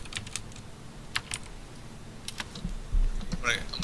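Fast, continuous typing on a mechanical keyboard, a dense patter of close key clicks with a voice talking quietly underneath.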